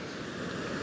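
Water spills steadily down a small man-made waterfall along a roadside stream, a soft continuous rush heard close with faint wind in the background.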